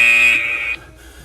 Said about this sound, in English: Next buzzer is that 15-second warning.